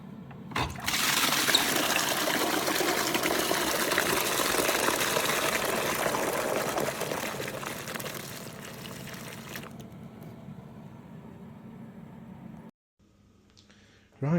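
Dirty dump water from carpet cleaning in an old school corridor gushes out in a steady, loud pour for about nine seconds, then drops to a quieter trickle and background hum.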